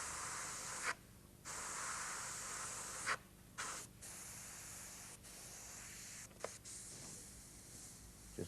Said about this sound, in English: Just freehanding the airbrush